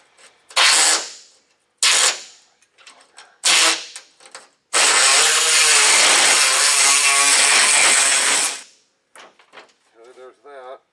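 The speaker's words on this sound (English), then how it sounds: "I'm going to go ahead and take my saw." A hand saw trims a tight spot in wood with bursts of rough strokes, then one long, loud continuous stretch of sawing, close up, followed by faint scraping and a brief voice.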